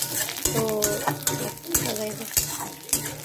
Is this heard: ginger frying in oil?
yes